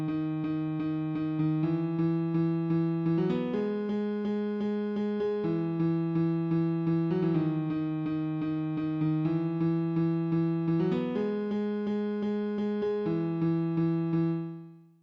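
A distorted bass built from three layered Serum synth patches from the Redemption bundle, with tube distortion, for a house track. It loops a buzzy, sustained riff with pulsing notes and steps in pitch, steady and loud, then cuts off.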